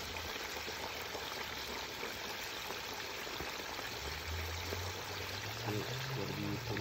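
Whole turkey deep frying in hot oil outdoors over a flame, a steady broadband bubbling hiss that holds throughout, with a low rumbling hum rising toward the end.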